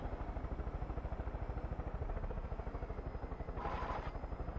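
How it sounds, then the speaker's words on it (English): A summoned helicopter arrives in Far Cry 5, its rotor thumping in a fast, steady rhythm that stays close and prominent throughout, with a brief whooshing burst near the end and no talk. "You want to summon your own chopper?"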